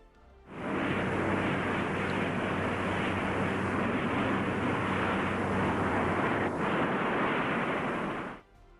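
A modified B-45 jet bomber from 1955, fitted with a J-79 test engine in an extended nacelle, climbs in flight. It gives a steady, loud, broadband jet roar that holds evenly for several seconds, then cuts off sharply.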